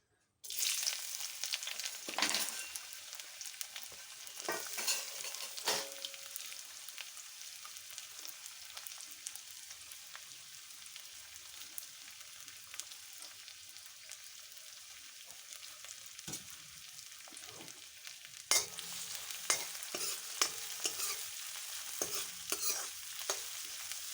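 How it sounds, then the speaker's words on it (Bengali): A soft, steady sizzle of onions frying, punctuated by sharp clinks and scrapes of a utensil stirring in a metal wok. "এবার পেঁয়াজগুলো আমি একে একে দিয়ে দেবো কড়াইয়ে"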